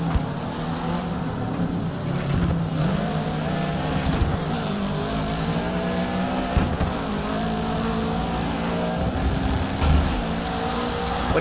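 A rally car engine in DiRT 3 at the Summer X-Games drones steadily and loudly, its pitch rising and dropping through gear changes with occasional tire noise, with no talk.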